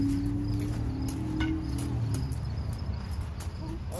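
Grasshoppers chirp in grass outdoors as a steady, thin, high-pitched buzzing that stays at an even level throughout, with faint rustling and a low background rumble.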